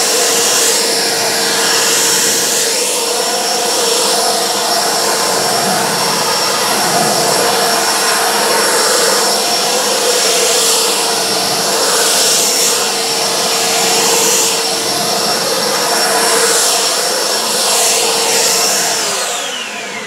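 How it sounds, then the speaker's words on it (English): A blow dryer roars steadily while drying detailed car panels, loud and close with a continuous whine and airy rush, intensity shifting slightly as it sweeps across the surface. "when it comes to hitting it with a blow dryer"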